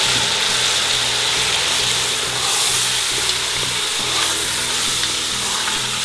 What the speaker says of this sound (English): Now keep browning the tomatoes and the meat together till the tomatoes are nice and mushy.